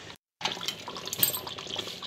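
Flour-water slurry being poured into a pot of nihari, a brief liquid splashing and trickling that starts suddenly after a short gap of silence and continues steadily, close and fairly loud, no voices.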